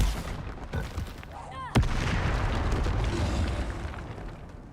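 A Confringo fire spell explodes in Hogwarts Legacy, a sharp blast with a whooshing burst that sits over a dense, rumbling game soundscape of continuous crackling and ambient noise.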